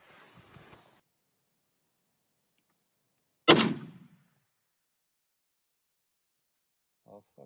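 A single loud, sharp rifle shot at a wildebeest, fired through a Swarovski dS scope, cracks once and fades with a short echo, framed by near silence and faint movement.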